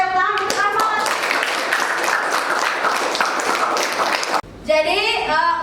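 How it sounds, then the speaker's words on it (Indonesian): A school class claps for a student named Ahmad, a dense burst of hand clapping lasting several seconds before stopping abruptly, followed by a voice speaking. "Oke, tepuk tangan untuk Ahmad."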